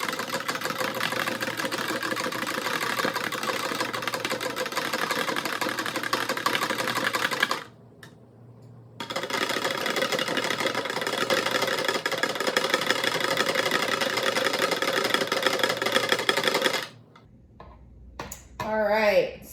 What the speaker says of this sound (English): so now we're going to stir